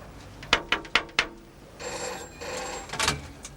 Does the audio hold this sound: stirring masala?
no